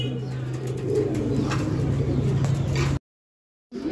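Indonesian pigeons give a steady, low murmuring coo close by, which runs for about three seconds before cutting to abrupt silence and then faintly resuming.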